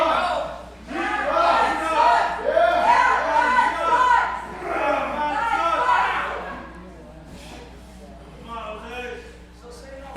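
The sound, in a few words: wrestling crowd cheering at a PPW match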